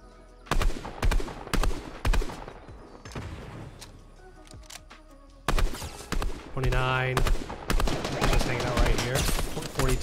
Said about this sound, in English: there's just some fool shooting at me